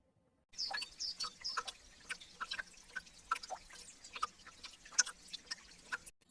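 Water drips falling one after another at an irregular pace during a winter thaw, small clear plinks over a faint background, quiet and close, with no voices.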